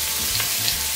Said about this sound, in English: I just happen to have these tomatoes, so we're gonna throw those in too. And listen to it sizzle.